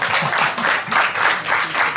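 A crowd claps loudly and continuously for a Garden Club member, the applause pulsing in close, even waves with no speech over it.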